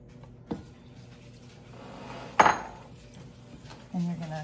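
A spoon stirs a half cup each of sugar and cheddar cheese powder in a mixing bowl, giving a few scattered clinks and scrapes, with one sharper knock and a brief rattle near the end.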